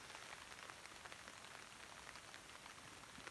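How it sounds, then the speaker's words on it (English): Rain patters on a tarp at a winter camp on a frozen lake, a soft, dense, continuous drumming of drops that stays quiet and even throughout. "the rain seems to be dying down just a little bit"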